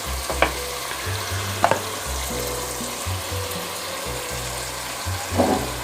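Shan pulao biryani being mixed in a pan while frying, a soft steady sizzle with a few sharp clinks of the spoon against the pot, and no one talking.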